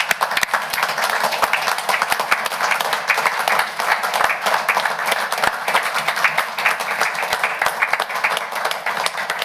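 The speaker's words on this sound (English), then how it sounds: "Let's have a round of applause." A county council meeting audience applauds steadily for nearly ten seconds, a dense, even patter of many hands in a room with occasional sharper claps standing out.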